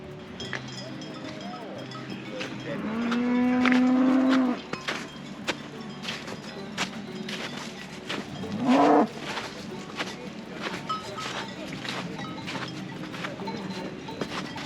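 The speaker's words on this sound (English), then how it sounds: "There's a couple of cows there and horses." Cows moo in a mountain pasture: one long low moo, then a second shorter call a few seconds later, over quiet outdoor ambience with scattered small knocks.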